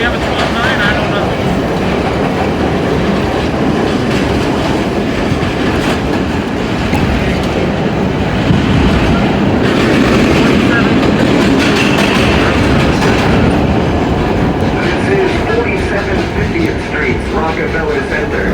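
An NYC Subway R32 D train runs along the line between 145th Street and 2nd Avenue, giving a steady, loud rumble with rhythmic wheel clatter from start to finish and occasional faint voices mixed in.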